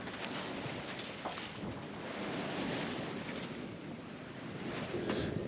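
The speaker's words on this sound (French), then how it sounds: "le vent faiblit un petit peu, il n'y a plus que 11 nœuds de vent" Moderate wind of about eleven knots rushes past a sailboat at sea, a steady airy hiss mixed with soft water wash and occasional gusts, with no one speaking.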